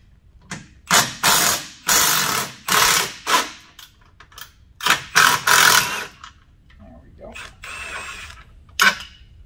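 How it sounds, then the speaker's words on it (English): Quick impact gun zipping off an 18mm sway bar end link bolt on a 2017+ Can-Am Maverick X3, loud close bursts in repeated ratcheting rattles of about a second each, with pauses and quieter clatter between. "we're going to use an 18mm, and we're just going to use a quick little impact gun"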